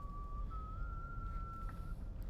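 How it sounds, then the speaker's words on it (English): A single sustained whistled tone in a video game, drifting slightly upward in pitch and held for about a second and a half over a low ambient rumble, fairly quiet and close. "Who's whistling?"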